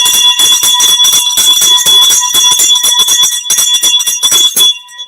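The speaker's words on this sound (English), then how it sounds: "Ring the bell for Angel." A loud boxing ring bell clangs rapidly and continuously for about five seconds before cutting off, ringing alone without voices.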